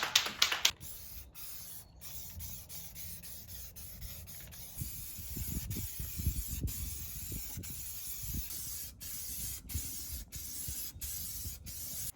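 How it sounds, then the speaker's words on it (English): Self-etch primer hisses from a spray can onto the bare metal floor of a 1982 Bullnose Bronco, with a sharp burst at the start, then repeated sprays and clicks of the nozzle, close and fairly quiet. "So I'm going to spray some self-etch primer and get to getting."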